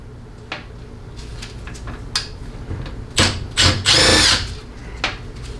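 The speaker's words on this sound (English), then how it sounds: "you're just going to take off your 5 Torx 25 screws" A power driver backs Torx 25 screws out of the accumulator housing on a 47RE transmission valve body, giving short whirring bursts and a louder sustained spin near the end, mixed with light clicks of parts being handled.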